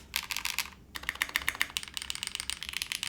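Quick, steady typing on a mechanical keyboard with polycarbonate and aluminum plates, a close run of crisp, quiet key clacks with a brief pause near the start.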